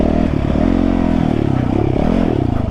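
A dirt bike engine drones loud and close as the rider moves along a track, the pitch rising and falling slightly with throttle in a steady, continuous run.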